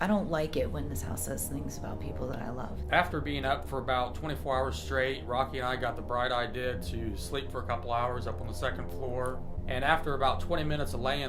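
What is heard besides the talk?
No everyday noise stands out behind the speech.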